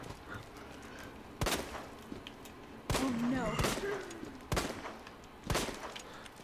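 Gunfire in the video game Resident Evil 2, sharp shots landing in irregular bursts at roughly second-and-a-half intervals, with people talking over the action.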